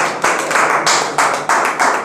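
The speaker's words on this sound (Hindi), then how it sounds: "जोरदार ताली के साथ पीछे रहिए" A room of students claps in a quick, steady rhythm to welcome a teacher, Saurabh Sir, at a technical coaching class. The claps come in loud, evenly spaced bursts close by.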